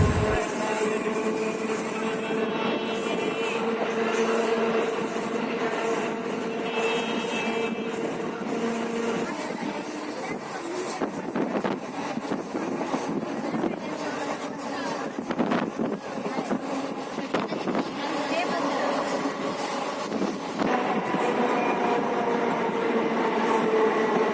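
A MEMU passenger train rolls between Nellore and Sullurpeta, heard from inside as a continuous rumble and rattle with wind noise and brief clunks, steady in level throughout.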